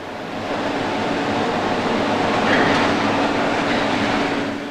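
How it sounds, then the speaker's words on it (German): An S-Bahn train rumbles into a large workshop hall with a steady low roar and rattling wheels, rising slightly in the middle and fading at the end, echoing indoors. "Diese S-Bahn fährt heute zur Reparatur in eine große Werkhalle."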